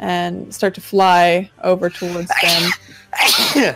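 A person talks, then a loud sneeze bursts out near the end, close and sudden.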